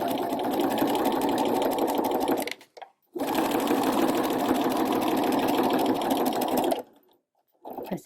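Sewing machine stitching a narrow hem with a hemmer foot, two long runs of fast, steady stitching separated by a brief stop, then another pause and a short restart, close and alone.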